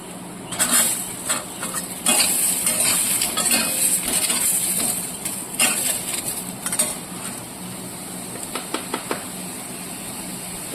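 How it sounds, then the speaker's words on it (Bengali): Washed raw mango pieces go into a pan of fried whole spices for a chutney: a loud, hissing sizzle with clinks and scraping as the pan is stirred, followed by a few light taps near the end. "এবার আমি আমগুলো ভালো করে ধুয়ে ছেড়ে দিচ্ছি।"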